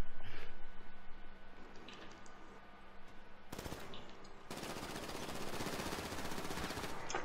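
Dense machine-gun fire rattles in a GTA V Online bank shootout, with continuous rapid bursts that drop briefly before erupting louder and fuller for several seconds, loud and close with no talk over it.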